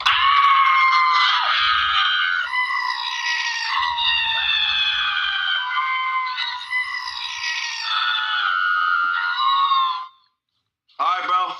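A man imitates a screaming goat with his own voice, holding long, loud, strained bleating screams almost without a break, then falls silent for a moment before a final short burst.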